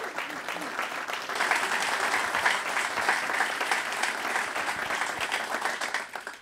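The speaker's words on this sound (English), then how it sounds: "Let's give a real Bronx cheer for Bucky and Mike" University audience at Iona University applauding and cheering for former Yankees Bucky Dent and Mike Torrez, a full, steady round of crowd clapping with cheering mixed in, swelling slightly mid-way before tapering off.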